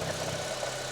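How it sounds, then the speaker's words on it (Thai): A Honda Civic FB 1.8 with an R18Z inline four-cylinder engine idles smoothly and steadily, a close, even hum with no talk over it. "เครื่องยนต์เดินนิ่งเดินเรียบนะครับผม"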